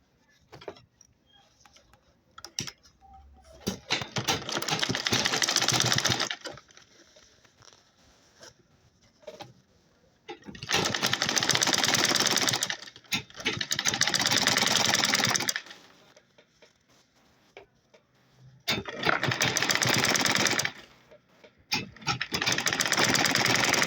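A sewing machine topstitches a jumbo tote bag in three long bursts of fast, whirring stitching, separated by quieter pauses with fabric handling and small clicks.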